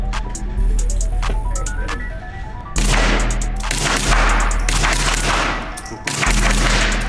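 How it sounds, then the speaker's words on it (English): Rapid gunfire from a Kel-Tec CP33 pistol at a shooting range, loud and close, in dense bursts of shots that overlap into continuous cracking with ringing tones and echoes. "shoot the Kel-Tec CP33"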